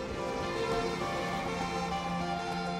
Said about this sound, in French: sirène hurlante à l'américaine